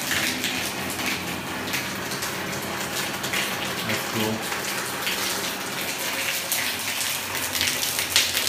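Water runs steadily into a jacuzzi tub in a hotel suite bathroom, a constant close splashing gush that fills the whole clip, with faint voices under it.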